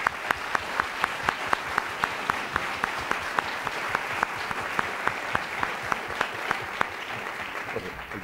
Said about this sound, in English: can we please have a round of applause for our panel?